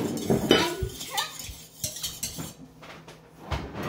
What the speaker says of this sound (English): These eggs get all whisked up.